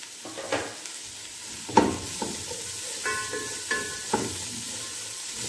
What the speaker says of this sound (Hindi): इसको मिक्स करते हैं।